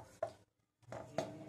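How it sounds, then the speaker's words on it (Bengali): Peeled beetroot is rubbed across a kitchen grater for a winter beetroot halwa, giving two short, close rasping strokes separated by a brief silence. "এবারে একটা গ্রেটারের সাহায্যে বিটগুলো একটু ঘষে নেব"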